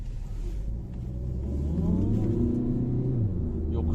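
A Ford Focus 1.5 TDCi automatic on winter tyres pulls away uphill, its diesel engine rumbling low and rising steadily in pitch and loudness as it accelerates, close up from inside the car.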